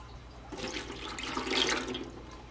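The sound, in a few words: pouring strained Wagyu beef broth liquid back into pot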